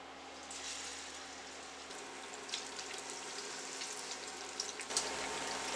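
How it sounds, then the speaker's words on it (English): Four slices of ripe plantain frying in a pot of hot oil, giving a continuous soft bubbling sizzle at low level with a few faint pops and clicks. "A pot of hot oil, we're going to add our plantains."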